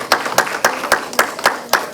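Steady rhythmic clapping at an Ayurvedic health-products launch event: about seven crisp, evenly spaced claps in under two seconds, moderately loud, with no talking over them.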